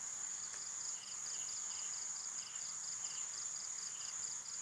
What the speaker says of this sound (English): I hope the crickets out there aren't going to get.